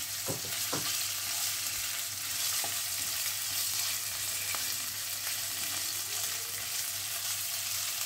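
Finely chopped prawns go into a frying egg mixture for a shrimp-and-egg flour snack, giving a steady, dense sizzle with a few sharp clicks and scrapes of stirring, and no voices.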